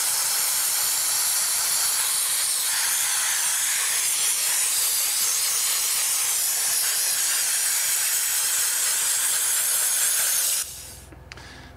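Dry ice blasting cleans the Brembo brake calipers of a BMW M2 CS, a loud continuous close hissing spray of air that runs steadily and then cuts off abruptly near the end.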